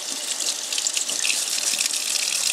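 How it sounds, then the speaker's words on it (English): Running tap water splashes steadily into a sink as a Lionel passenger car part is washed with soap and water, a close, continuous hiss with no speech. "give it a quick cleaning with some soap and water"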